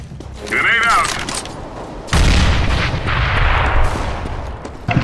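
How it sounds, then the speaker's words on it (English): A grenade explodes in Counter-Strike: Global Offensive with a loud, sudden boom, then sustained roaring rumble and scattered gunfire during a competitive match, with brief voice chatter before the blast. "Grenade out!"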